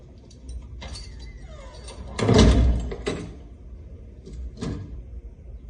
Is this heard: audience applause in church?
no